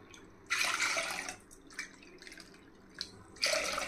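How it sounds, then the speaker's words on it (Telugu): Water is poured onto soaked chana dal in a few separate splashing bursts with short pauses between them, close and moderately loud, with no voices. "4 కప్పులు వాటర్ వేసుకోవాలి."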